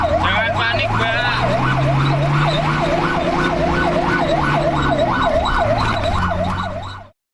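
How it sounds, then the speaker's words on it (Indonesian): A fire truck races past a traffic light with its siren wailing loudly in a fast, regular up-and-down cycle over a low engine rumble, then cuts off abruptly. "tampak sebuah mobil pemadam kebakaran melaju dan melewati traffic light sambil membunyikan sirine"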